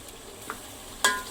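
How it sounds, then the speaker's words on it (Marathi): Masala paste of coriander, ginger, garlic and chilli sautéing in a pan: a faint low sizzle with a soft tap and a sharper scrape of the spoon near the end. "आता ह्याला छान एकजीव होईपर्यंत परतून घेते मी"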